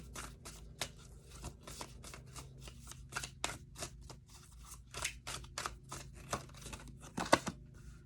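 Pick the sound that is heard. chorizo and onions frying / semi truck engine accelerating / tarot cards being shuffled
tarot cards being shuffled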